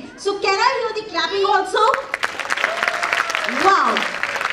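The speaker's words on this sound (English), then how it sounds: "So can I hear the clapping also?" Clapping from children's teams at a school annual function, many hands clapping in a dense patter after a child's sung or spoken call, with voices rising over the clapping.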